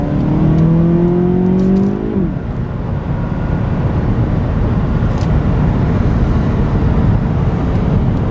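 Hard acceleration from a 2014 Cadillac CTS 2.0 turbo AWD, heard from inside the cabin. A rising engine note climbs for about two seconds and then drops into a steady, loud road and engine drone.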